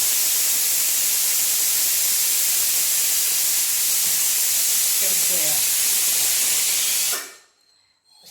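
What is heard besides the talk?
pressure cooker hissing steam, cooking dal and rice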